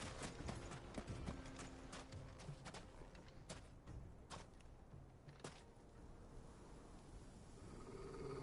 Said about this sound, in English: Look, there. Those are ashen steeds.